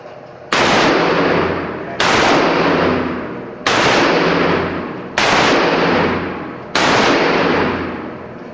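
Five loud gunshots at an outdoor shooting range, fired one at a time about every one and a half seconds, each sharp crack followed by a long decaying echo that fills the gap before the next shot.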